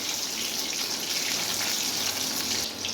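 Chicken chilli pieces fry steadily in a pan, giving a continuous, fairly loud hiss and crackle throughout with no talking.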